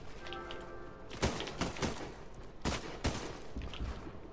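Shotgun blasts from a primal shotgun in Fortnite, about half a dozen loud sharp reports spaced irregularly over a few seconds, close up with little else around them.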